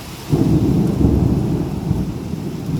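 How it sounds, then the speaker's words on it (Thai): Heavy rain in Bangkok pours down in a dense, steady hiss with a deep rumbling roar underneath, continuous and close, with no voices. "ฝนตกแรงมาก"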